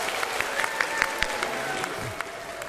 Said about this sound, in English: Give God and yourselves a big round of applause.